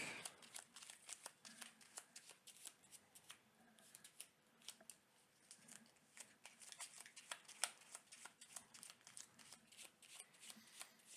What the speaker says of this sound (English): Let's go ahead and shuffle the encounter deck.